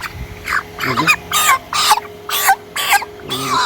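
Broiler chickens on a farm in intense summer heat cluck loudly and close by, a series of about seven short, strained squawking bursts in quick succession with brief pauses between them.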